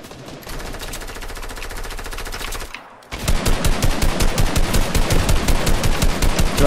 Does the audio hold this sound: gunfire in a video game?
yes